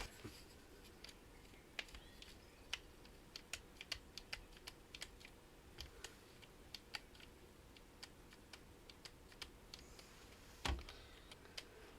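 Quiet, irregular small clicks tick from the disc drive tray mechanism of an Original Xbox Crystal Edition under repair, with one louder clack near the end.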